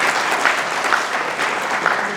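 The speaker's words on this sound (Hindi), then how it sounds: "और ज्योति जी के लिए एक बार तालियां तो जरूर बनती हैं।" A crowd applauds for Jyoti ji, a brief burst of loud, dense clapping that carries on evenly throughout.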